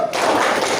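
A classroom group claps a short rhythmic salute, a brief burst of hand taps and thuds lasting under a second, fairly close and loud.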